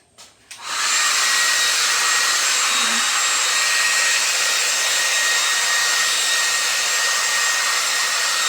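A hair dryer blows steadily and loudly on wet paint on an abstract painting, switching on with a short click and then droning evenly with no talk.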